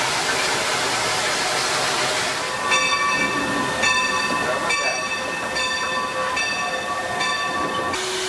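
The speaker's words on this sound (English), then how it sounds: "we have to cut the locomotive off, run it around a Y" A California Western Railroad steam locomotive moves around a wye at North Spur. Its whistle gives a series of repeated short blasts over a steady, loud background of hissing and rumbling machinery.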